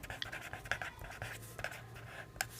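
Pen scratching across paper while someone writes out a math calculation by hand: soft, continuous scraping strokes with a few sharper taps, close and moderately quiet over a low hum.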